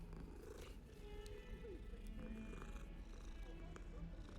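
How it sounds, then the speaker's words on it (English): A cat purrs in the video game Hogwarts Legacy, a faint low rumbling purr running under game ambience, with a person talking quietly over parts of it. "There's a cat."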